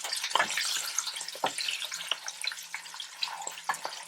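Boiled eggs stirred into dal tadka in a pan of hot oil with green chillies, giving a steady close sizzle broken by several scraping stirs and soft clatters, with no talking.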